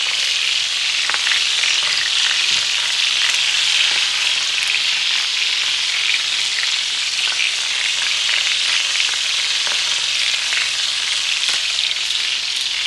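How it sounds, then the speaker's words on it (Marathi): Bombay duck (bombil) fish frying in a pan, a steady dense sizzle with bright crackling throughout, close and even in loudness with no talking. "एक 1 ते 2 मिनिटांमध्ये बोंबील मस्त फ्राय होतो."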